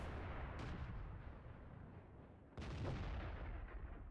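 Artillery fires in World of Tanks: two heavy booms, each followed by a long rumbling roar that fills the clip with dense low noise and no talk.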